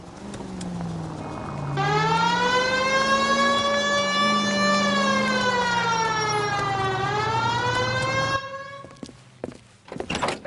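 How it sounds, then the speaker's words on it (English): A loud police car siren in the video game L.A. Noire wails with rising and falling sweeps for several seconds, then cuts off and is followed by a few scattered thumps. "Hit the siren."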